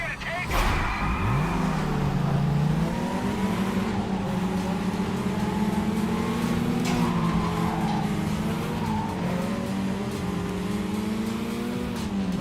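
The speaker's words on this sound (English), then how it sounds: "listen to those engines" Racing car engines rev loudly and continuously in a driving video game, a sustained droning engine tone with tire skids near the start, lasting the whole stretch; a voice talks over it in places.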